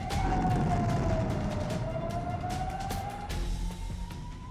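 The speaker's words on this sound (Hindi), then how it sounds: "ये सायरन," An emergency siren wails steadily at a distance, its tone sliding slowly down and then back up over a dense rumble of background noise. Sharp bangs and clatter come through intermittently.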